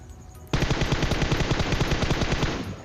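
Rapid automatic gunfire in the PUBG video game, a sudden burst of evenly spaced shots firing nonstop for about two seconds, loud and close, fading at the end.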